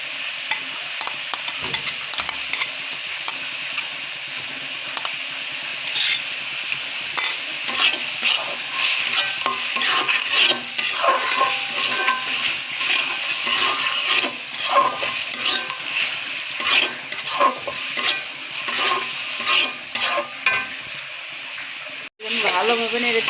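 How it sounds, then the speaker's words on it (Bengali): Onion, garlic and cumin paste are stirred and fried in a pan for a katla fish and potato curry, giving a steady sizzle with scraping spoon strokes throughout. "পেঁয়াজ, রসুন সব একসাথে মিক্স করে ভালোভাবে নেড়ে চেড়ে ভাড়া করে নেব।"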